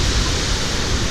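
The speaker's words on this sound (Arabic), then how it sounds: "شلال رقم 4." Steady roar of a waterfall on a stepped trail near Pikes Peak, Colorado, a dense, even wash of falling water heard close and loud throughout, with no voices.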